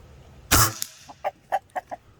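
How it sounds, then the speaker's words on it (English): A loud burst of noise, likely an air rifle shot, gives way to several short, soft clucks from chickens nearby, spaced irregularly with quiet between them. "Don't mind my chickens and all the noise going on in the background."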